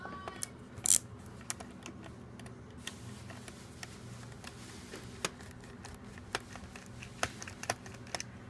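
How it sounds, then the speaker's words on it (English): A T7 star bit loosens a small screw on an HP Compaq NC4200 laptop, producing faint, sparse, close ticks and clicks over a quiet background. "You're gonna need to take this screw loose right here."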